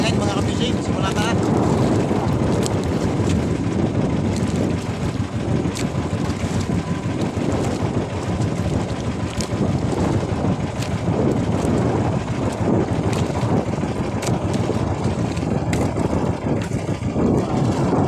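Strong wind buffets the microphone on a fishing boat out at sea, a loud, constant roar and rumble with a low engine-like drone underneath, while someone talks over it.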